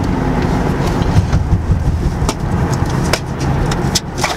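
Car slowing and pulling up to a stop while driving, a steady low engine and road rumble throughout with a few faint clicks and thumps inside the cabin, no talk.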